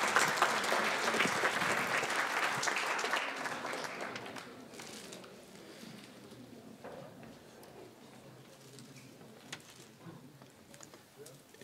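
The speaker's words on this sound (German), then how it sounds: "Großer Applaus für ihn." A crowd at a charity gala in Frankfurt claps steadily for about four seconds, then the applause thins out and fades to scattered, quieter claps.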